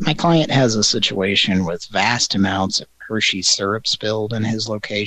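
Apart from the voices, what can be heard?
No everyday noises stand out.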